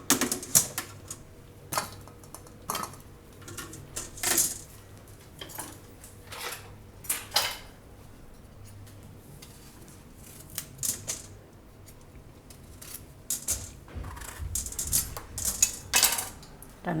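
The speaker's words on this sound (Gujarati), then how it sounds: "અને દૂધી છે એને આપણે છાલ કાઢી લેવું." A bottle gourd is peeled by hand in a home kitchen, giving a series of short, crisp scraping strokes that repeat at an irregular pace, close up and moderately quiet, with no talking.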